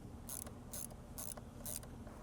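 A ratchet tool driving T20 bolts into a small engine cover on a Mercedes-Benz ML350 W166, four quick, faint ratcheting bursts in even rhythm, heard alone.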